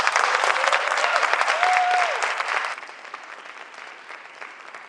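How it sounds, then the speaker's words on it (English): Applause from an audience at a choral conducting masterclass, a dense burst of clapping that fades to scattered claps, with a brief whistle-like tone near the start. "Let's give them some applause."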